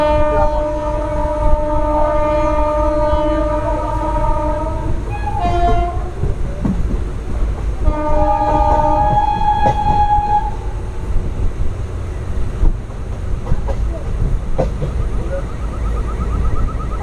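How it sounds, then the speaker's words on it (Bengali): A passenger train sounds several long, loud horn blasts at a station as it prepares to depart, with a steady rumble of rail noise and engine beneath and little talk. "ট্রেন ম্যানেজার কিন্তু সিগন্যাল দিয়ে দিলেন ট্রেন ছেড়ে দেবে"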